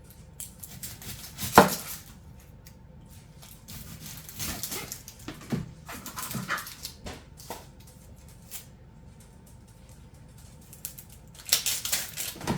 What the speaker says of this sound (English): for the onions, we'll cut them in half, put them down in there